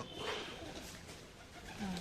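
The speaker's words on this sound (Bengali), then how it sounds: "কেমন আছে আমাদের কবুতরগুলো" Domestic pigeons kept at a house give soft, low cooing calls, faint and brief, in a quiet room with light background hiss.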